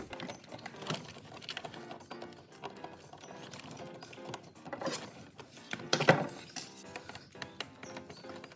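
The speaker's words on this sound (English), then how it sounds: "we're gonna remove this front axle, removing the 4 screws" Small screws are worked out of the front axle of a monster truck toy, giving faint close-up clicks, ratcheting and plastic rattles in an irregular pattern.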